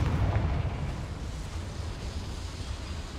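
A Confringo fire spell blasts in Hogwarts Legacy as a heavy, rumbling roar that starts loudest and then sustains as a broad, slowly easing explosive rush.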